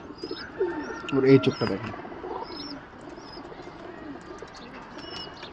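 A Pakistani Highflyer pigeon, a young Lalpari hen, coos softly and low among higher chirps from other birds, with a person talking over it.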